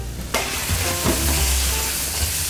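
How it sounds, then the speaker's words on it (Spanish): Dry noodles for a lobster and langoustine fideuà land in a hot oiled pan and start sautéing, a sudden burst of loud close sizzling that carries on with soft stirring scrapes. "Sofreímos un poco los fideos."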